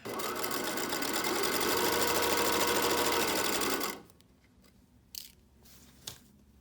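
A sewing machine runs fast and steady, stitching binding along the edge of swimsuit fabric, a dense continuous whirr lasting about four seconds, then stopping, followed by a couple of faint handling clicks.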